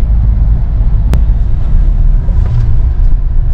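Heard from inside a Mahindra Scorpio N diesel automatic SUV driving through traffic: a loud, constant low rumble of engine and road noise with one sharp click partway through and no talking.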